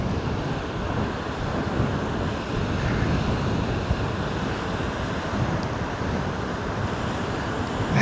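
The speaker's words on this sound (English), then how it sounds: "I want to see one of the big waves again crash over there." Big storm-driven waves surge onto a beach through muddy water after heavy rainstorms, a steady, dense roar of surf with wind buffeting the microphone throughout and no clear individual crash standing out.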